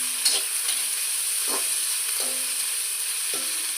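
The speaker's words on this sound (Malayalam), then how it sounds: "അതിനകത്ത് ഉള്ളി ഇട്ട് കൊടുക്കുക" Four medium onions sizzle in a hot pan with a steady, bright hiss, broken by several soft scraping stirs, close and with no talk.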